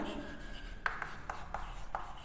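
A pen writing and striking through a subset symbol on paper, heard as a faint scratching with a few short strokes over a steady background hiss.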